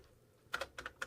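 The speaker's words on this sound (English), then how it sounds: "I'm going to type" A computer keyboard tapped in a short burst of keystrokes, five or six crisp clicks in quick succession after a quiet start, close but soft.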